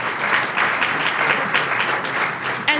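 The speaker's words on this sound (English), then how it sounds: "Yes, give them a round of applause." A ceremony audience at Madison Square Garden applauds the children, producing steady, dense clapping that stays at an even level throughout, fairly close and loud.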